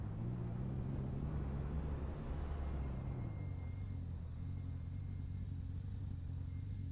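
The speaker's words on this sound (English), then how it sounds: "Brake hard in the straight line. Come down from 6th gear to 2nd gear." A Radical SR8 race car in the iRacing simulator brakes hard on a straight at Imola and drops from sixth gear to second, its loud engine note falling in steps through the downshifts before settling to a lower, steady rumble.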